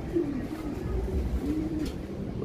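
A racing pigeon at its loft, back from a race of over 360 km, gives low, soft cooing phrases, close by and repeated over quiet background sound.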